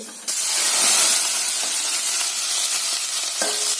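Fenugreek and mustard seeds dropped into hot oil, bursting into a loud, continuous sizzle with crackling spits and pops, close up and without any voices.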